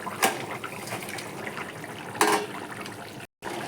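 Fish pieces drop one by one into simmering curry gravy with potatoes in a home kitchen, giving two distinct wet plops over a soft bubbling background.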